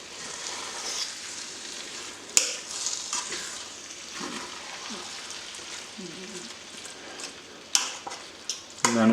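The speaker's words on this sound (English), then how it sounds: "And all you do is just simply stir it." Ghanaian jollof rice with carrots stirred in a pot under a soft continuous sizzle, with occasional scrapes and knocks of the spoon and a louder clatter near the end.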